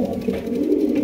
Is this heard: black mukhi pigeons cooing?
yes